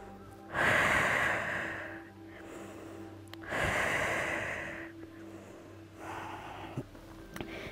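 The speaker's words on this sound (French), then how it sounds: "Prenez des grandes respirations ici." Slow, deep breaths during an outdoor yoga session, a few long airy inhales and exhales spaced several seconds apart, close and fairly soft against a quiet open-air background.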